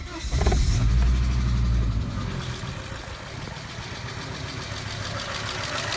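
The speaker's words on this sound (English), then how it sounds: "Mega Squirt 3 Pro plug and play start." Volvo 850 T-5R engine running on a MegaSquirt 3 Pro plug-and-play setup cranks and fires with a loud burst, then settles into a steady, slightly lumpy idle at close range.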